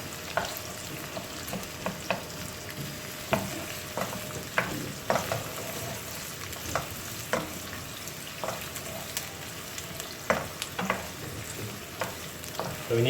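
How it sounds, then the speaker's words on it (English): Oil sizzles steadily as onions fry, with scattered clicks and scrapes of a utensil stirring the pan; no voices. "the onion start to sizzle and turning golden brown"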